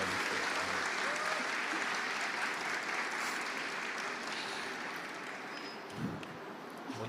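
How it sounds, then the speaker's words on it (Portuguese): An audience at a book fair panel in Rio de Janeiro applauds in a steady, even patter throughout. The clapping eases slightly near the end, and a brief voice rises over it. "Todo mundo aplaude o Vitor Sensei"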